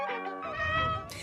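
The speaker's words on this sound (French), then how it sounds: "vient de m'envoyer une vidéo de chat trop mignonne" A cat meows in a drawn-out, wavering call lasting about a second, fairly faint and slightly distant.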